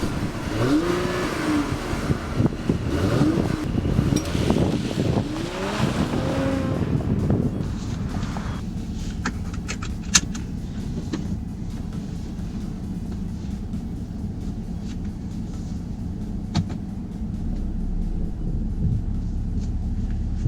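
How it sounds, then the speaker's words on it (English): A 2018 Mercedes-Benz E400 Coupe engine in sport mode revs and roars in rising and falling bursts, then settles into a steady low rumble, heard from close by. "Just to give you a little sound of the engine on sport mode."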